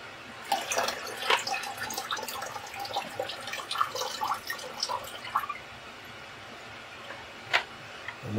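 Water splashing and dripping while a film developing tank is rinsed out, with irregular soft splashes and drips in a small indoor space, fairly quiet and with no talking.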